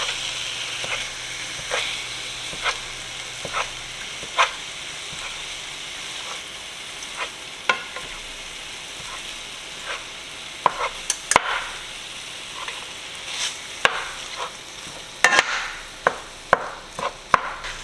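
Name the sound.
ground beef browning and being stirred in a pan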